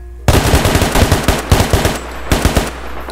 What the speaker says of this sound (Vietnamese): mọi người nghe cái tiếng bắn này nó rất là chân thật